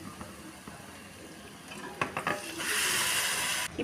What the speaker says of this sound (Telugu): ఈ ప్రెషర్ కుక్కర్లో మనం మ్యారినేట్ చేసుకున్న చికెన్ని వేసుకున్నాం కదా